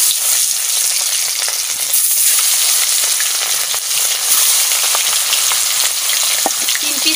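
Large pieces of fish fry in hot oil, a loud, dense, continuous crackling sizzle that stays close and even throughout, with faint spatters.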